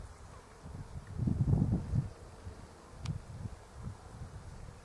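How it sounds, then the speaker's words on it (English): Bees buzz around a blossoming almond tree on a calm, clear day, a soft low hum that swells in the middle and fades, with faint outdoor ambience and a brief high chirp. "Only bees and birds."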